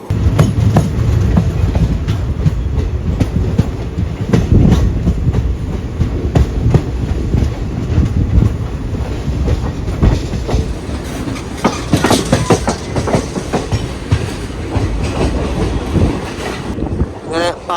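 The Mangalore–Chennai Egmore Express running on rails as it enters Palakkad Olavakkode station, with a loud continuous rumble, rhythmic clickety-clack and wind buffeting heard from on board, and some voices in the background.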